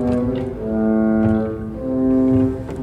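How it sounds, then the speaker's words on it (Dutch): A pipe organ violoncello pedal string stop sounds a low, buzzy held note with a few changes in pitch, steady and fairly loud with no talk. "In het pedaal er nog een, de violoncello."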